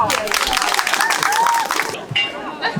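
A crowd at a pumpkin festival in Wrocław applauds a broken pumpkin-weighing record, with dense clapping and some cheering and chatter over about two seconds before it drops off abruptly, followed by a brief voice.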